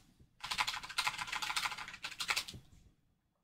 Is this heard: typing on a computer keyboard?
yes